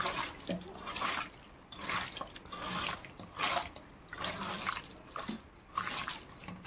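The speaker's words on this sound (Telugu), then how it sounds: "రైస్ కడిగి పెట్టుకోవాలి." Rice is washed by hand in a bowl of water for chicken biryani. Water sloshes and splashes in rhythmic, repeated swirls, close and fairly loud, with no talk.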